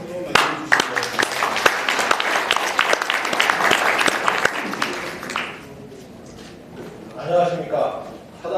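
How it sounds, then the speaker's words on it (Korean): Applause from an audience of business people at a Korean business association meeting fills the room, with dense, near clapping for about five seconds that then fades out, followed by quiet room noise and faint voices. "큰 박수로 맞이해주시기 바랍니다"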